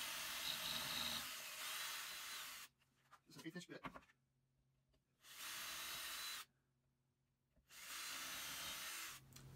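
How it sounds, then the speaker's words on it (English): A power drill bores holes through a board for a dollar-store bird feeder, heard as three separate loud whirring bursts with short quiet pauses between them, plus some brief handling noise. "using my drill, I'm going to drill out these four holes"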